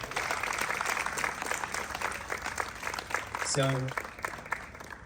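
Audience applause at a fifth-anniversary celebration, a steady wash of many hands clapping throughout, with a voice speaking over it near the end.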